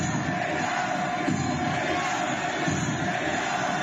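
Dense crowd of protesters in Iran, a steady wash of many voices with scattered shouts, continuous and moderately loud throughout.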